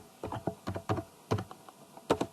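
Typing on a computer keyboard, with quick clusters of close, crisp key clicks in an uneven rhythm and short pauses between bursts, heard alone without talk.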